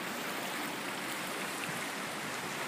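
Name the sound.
swollen river flowing during typhoon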